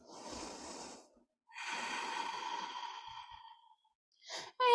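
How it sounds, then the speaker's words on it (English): Slow Ujjayi yoga breaths, the oceanic victorious breath of a gentle vinyasa flow: two long, breathy exhalations close to the mic, separated by a short pause, followed by a quick sharp intake at the end. "Maybe firing up that Ujjayi victorious breath again, that oceanic breath"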